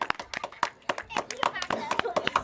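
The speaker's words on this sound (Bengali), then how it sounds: "হাততালি হাততালি হাততালি হাততালি" Children clap their hands in short, quick bursts of sharp claps at close range, mixed with a chanting voice and child chatter between the beats.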